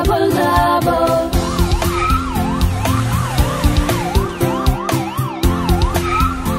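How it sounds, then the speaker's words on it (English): A police car siren wails in a rising and falling pattern within a children's song, looping over bouncy music with a steady beat throughout. "Here come the police cars."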